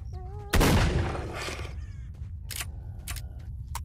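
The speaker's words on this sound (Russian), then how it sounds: "Снова выстрел убивает, очень классно." A single loud gunshot from the video game STALKER: Shadow of Chernobyl cracks out sharply and decays over about a second, followed by quieter in-game clicks and mechanical sounds.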